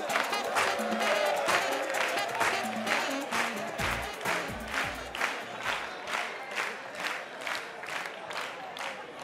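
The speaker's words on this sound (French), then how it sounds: "Sous vos applaudissements, mesdames et messieurs." Studio audience at a televised stand-up comedy show claps and cheers loudly as a comedian is introduced, with sustained dense applause across the whole stretch.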